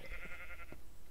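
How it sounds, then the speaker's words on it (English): Zombie sheep in a Minecraft modpack give a short bleat or two against a steady game background hum, fairly faint and with no talking. "Zombie sheep, zombie"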